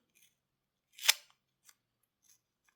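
A brass rubbing taken from a handmade horse's hoof tool for a custom Swiss Army knife is peeled away in one short, crisp tearing rustle, followed by a few faint paper ticks in an otherwise quiet room.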